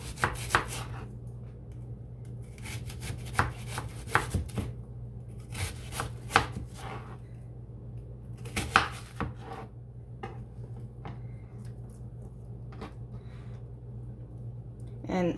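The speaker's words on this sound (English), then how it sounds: "Then we have our onion, and we're just gonna cut it up." A knife chops an onion into large chunks on a board, a string of irregular, crisp taps and short scrapes close by, with a steady low hum underneath and no one talking.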